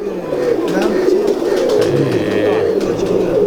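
Pigeons coo steadily and close up at a pigeon-keeper's loft, a low continuous murmuring that runs throughout, with faint voices in the background.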